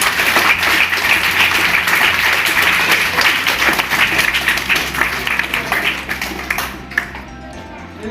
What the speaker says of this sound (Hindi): तो ऐसे जयदीप जी पाटीदार के लिए भी जोरदार तालियां